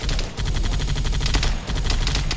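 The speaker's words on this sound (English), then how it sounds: "That big gun on the roof, we gotta get out of its sight!" Rapid automatic fire from a large roof-mounted gun in a video game, loud and close, hammering out dense bursts with two brief pauses between volleys.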